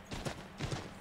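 Horse hooves in the snowy world of Assassin's Creed 3, two quick pairs of soft clip-clop steps, faint and close together within a second.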